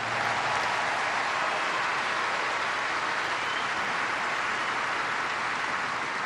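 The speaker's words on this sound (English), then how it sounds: "Another round of applause for Grigor Dimitrov." Sustained, dense applause from a tennis crowd at the Brisbane International for champion Grigor Dimitrov, an even roar of clapping with no break.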